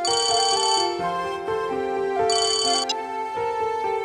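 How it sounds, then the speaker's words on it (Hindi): A phone rings with an incoming call, its melodic electronic ringtone looping loudly and clearly with bright chiming accents, alone without any talking. "वीरेन जी का फोन है"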